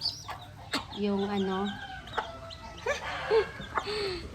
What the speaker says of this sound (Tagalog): Malalaki yung sisiw niya, guys.